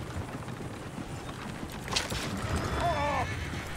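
Horses pulling a runaway coach in Red Dead Redemption 2 clatter along with rapid hooves and rumbling wheels, then a whinny breaks out near the end amid busy street noise and a low voice.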